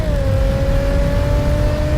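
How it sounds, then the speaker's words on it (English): A Jaguar F-PACE SVR with its variable valve active exhaust holds a steady, loud engine drone, a sustained mid-pitch tone over a rumbling low end that barely changes across the moment. "With the variable valve-active exhaust system enhancing performance capability"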